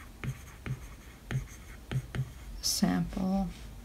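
Pen strokes on a tablet while taking notes in the Goodnotes app, heard as several short, quiet scratching taps spaced about half a second apart, then a brief burst of faint voice-like sound near the end.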